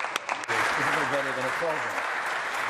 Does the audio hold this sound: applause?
yes